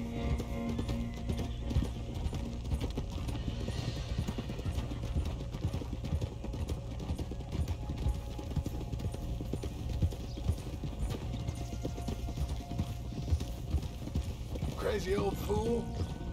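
Horses' hooves clip-clop steadily and close by in the video game Red Dead Redemption. Voices talk over the hoofbeats throughout, and a brief whinny-like sound comes near the end.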